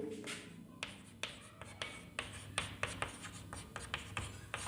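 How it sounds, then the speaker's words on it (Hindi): Pen or chalk writing out a divisibility rule for maths, a steady close scratching with quick taps and strokes in a regular rhythm, heard alone with no talking. "तो यहां पे लिखेंगे"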